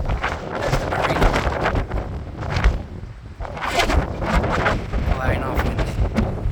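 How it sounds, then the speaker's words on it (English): Gusty wind buffeting the microphone at Brighton marina by choppy seas, a loud, rough low roar that swells and eases in irregular surges. "I hope you can hear me on this windy walk I'm on at Brighton on the marina"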